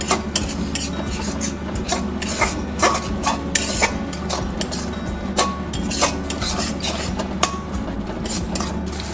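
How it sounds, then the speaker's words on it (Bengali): Spice masala with turmeric and a splash of water is stir-fried in a pan, the spatula scraping and clinking against the metal in quick, repeated strokes over a low sizzle, close up with no talking. "এবার ভালো করে এটাকে আমি কষিয়ে নেব।"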